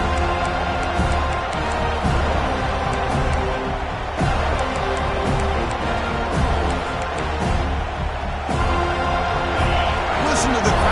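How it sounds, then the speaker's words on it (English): Stadium crowd in the College Football 25 video game: a steady, dense roar of a large crowd fills the whole stretch, with periodic swells and thumps, under commentator-style talk. "Listen to the crowd energy here in the early going."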